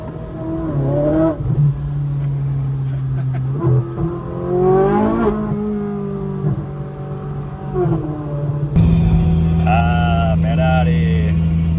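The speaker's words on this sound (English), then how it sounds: "But the car sounds very nice, I have to say that." Ferrari 458 Speciale with straight-piped exhaust on a mountain pass, its engine revving up and down in rising sweeps with a louder surge near the end, while people talk over it.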